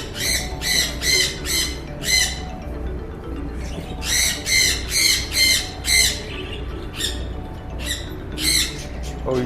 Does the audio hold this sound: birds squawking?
yes